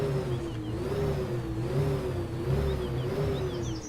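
A car engine hums steadily with a wavering pitch that rises and falls slightly, like light revving, continuous throughout at moderate loudness.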